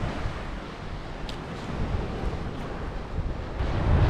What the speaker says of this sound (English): That's about a 25 knot nor'easterly wind right now.